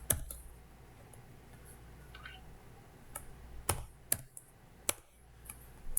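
Irregular bursts of clicks from a computer keyboard as someone types code, sparse taps early then quicker sharp keystrokes clustering toward the end, fairly close and alone with no voice.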